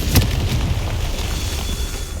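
A Confringo fire spell bursting in Hogwarts Legacy on Xbox Series X: a single sharp, loud blast up front followed by a deep rumbling boom that fades over the next two seconds, with no talking.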